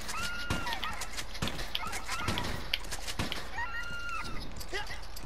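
Turkeys gobbling and clucking in Red Dead Redemption 2, a flock of nine, with repeated fowl calls near and mid-distance over steady game ambience and thumps.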